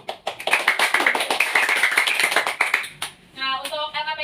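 A classroom of students gives a round of applause, a brisk burst of many hands clapping near and fairly loud for about three seconds, fading out before a few faint tones follow.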